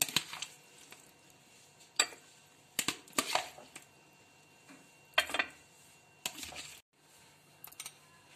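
Pieces of tukri falooda are dropped into two glasses, giving soft, scattered knocks and clinks of glass at irregular intervals against a quiet background.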